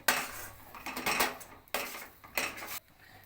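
Semolina being stirred in a pan over a gas flame, with loud clattering bursts of a metal spoon scraping the pan in uneven strokes separated by short pauses.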